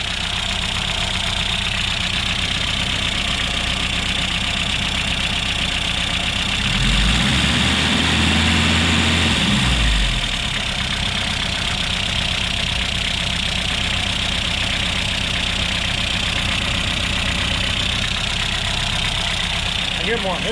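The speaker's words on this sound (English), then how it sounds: "let me know what you think about this engine running" A 1969 Opel GT engine idling steadily with a constant low rumble throughout, briefly rising in a heavier low-pitched surge midway before settling back to an even idle.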